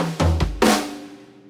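A drum fill played at medium speed near the end of a song's first chorus: a few sharp, close hits in quick succession with ringing decay, heard alone with no talking.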